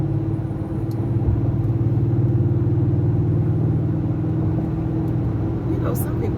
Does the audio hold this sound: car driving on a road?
yes